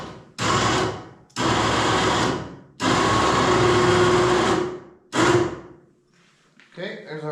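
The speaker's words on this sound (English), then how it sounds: "Let's try the winch here." An electric winch mounted on an ATV rack built from school bus seat frames runs in four loud, near bursts of steady motor whine, with short silent pauses between pulls and a brief quieter tail at the end.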